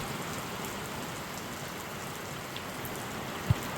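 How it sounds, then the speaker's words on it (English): Steady, soft rain hissing evenly throughout on a trail shelter in the Grayson Highlands, with one brief knock near the end and no voices. "Alright, it's raining."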